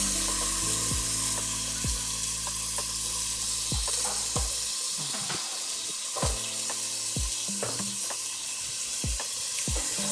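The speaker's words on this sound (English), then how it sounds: "You just fry the onion until just a little tender." Chopped onion sizzles steadily in about a tablespoon of hot oil over medium heat for fried rice, a dense continuous crackle broken by several sharp stirring scrapes and knocks against the pan, close and fairly loud with no talking.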